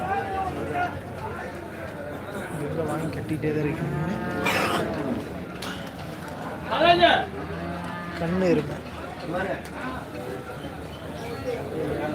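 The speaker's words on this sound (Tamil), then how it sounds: "செமையான சைஸ் பெரிய தரத்தில் எருமைகள் வந்து இந்த வாரத்தில் நிறைய எருமைகள் வரத்துருக்கு" Buffaloes at a large cattle market in Karungalpalayam low now and then, a few deep moos rising above the continuous crowd chatter and murmur of the busy market, with people talking nearby.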